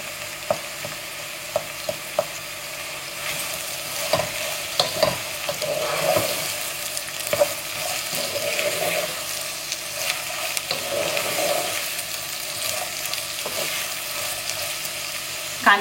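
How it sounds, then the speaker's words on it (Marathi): Chopped onions and a bay leaf frying in two tablespoons of oil in a pan for Goan chicken curry, a steady close sizzle with occasional crackles and stirring scrapes throughout, no voices. "तितून हांव घालता हे आमचे कातरून दवरलेले कांदे आनी तेजपत्ता घालता"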